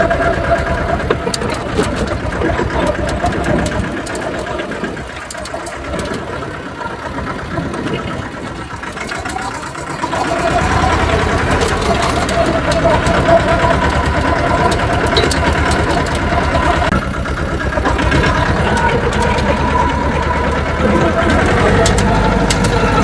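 A tractor engine idles with a steady low rumbling chug, dipping slightly in the first part, then rising and holding steady and loud, close by.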